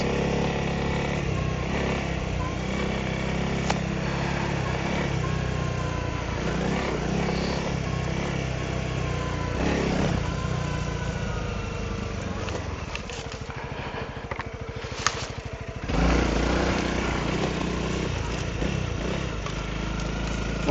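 A Honda CRF300L Rally motorcycle is ridden alone through wild mountain country, its single-cylinder engine droning steadily up close with gear changes and rising and falling revs over about twenty seconds.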